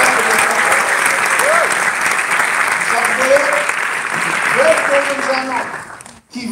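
An ACN meeting audience in Montreal applauds loudly for Greg Provenzano, a full, continuous wash of clapping with cheers and whoops over it, cutting off sharply at the very end.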